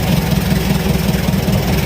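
A fishing boat's engine runs steadily out on the Pacific Ocean, a loud, continuous low rumble with an even idling throb throughout, no talk over it.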